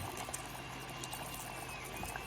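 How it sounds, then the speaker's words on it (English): Lemon juice pours steadily into a sauce for chicken lollipops, a soft, continuous faint trickle that runs for a couple of seconds without interruption. "we're gonna add some lemon juice"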